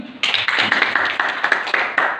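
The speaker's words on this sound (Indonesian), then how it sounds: "Tepuk tangan dulu." A small classroom group claps in an Indonesian school lesson, about eight distinct, fairly close claps in an uneven rhythm after a short quiet start.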